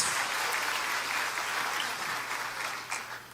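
A church congregation claps together in sustained, even applause, a broad wash of hands at steady strength for several seconds.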